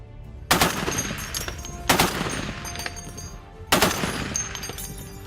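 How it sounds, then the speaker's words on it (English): A .50 caliber machine gun fires at a ranch range in three loud, close bursts of rapid shots, each followed by a short ringing decay before the next. "They've also set up to where you can shoot a 50 caliber machine gun"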